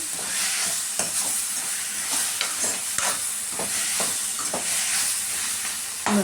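Boiled pumpkin pieces fry in a pan under a constant hiss, with repeated scraping stirs of a spatula knocking against the pan at an uneven rhythm, close by.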